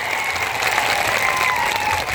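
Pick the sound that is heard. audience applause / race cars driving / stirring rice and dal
audience applause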